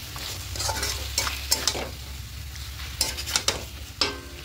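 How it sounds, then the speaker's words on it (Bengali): Chicken coated in kadai masala paste sizzles in a kadai over a medium flame, with repeated scraping stirs and brief spatula strokes over a low, steady frying hiss close by. "এবার মিডিয়াম ফ্লেমে খুব ভালো করে মশলার সঙ্গে চিকেনটাকে আবারও 2-3 মিনিট খুব ভালো করে কষিয়ে নেব।"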